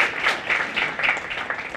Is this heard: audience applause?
yes